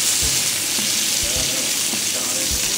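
Anglesey sea bass and a scallop fry in a pan with a loud, steady close sizzle, broken by a few soft low thumps as the food is moved.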